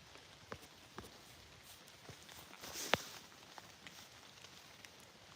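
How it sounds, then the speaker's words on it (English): Rain falling outdoors at night, a steady faint hiss of drops on surfaces with a few scattered taps and one sharp click, no voices. "It's been raining all night."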